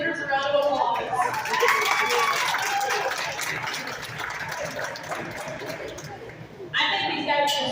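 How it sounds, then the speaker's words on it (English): A crowd at a pig show claps and cheers for the exhibitors, a moderately loud spell of applause mixed with chatter and a little laughter, swelling again near the end. "let's give all the exhibitors a round of applause"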